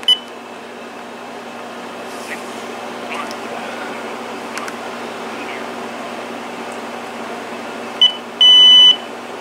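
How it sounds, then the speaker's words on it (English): Uniden EXA915 cordless phone handset operating its answering machine: a short beep at the start, scattered faint key clicks over a low hum, then a sharp beep and a sustained electronic tone near the end. "Now let's go ahead and check out the answering machine from the handset."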